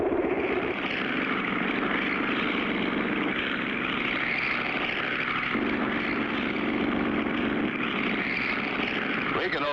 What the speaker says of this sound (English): Hey, Foxy, that bobtail flying machine is catching up with us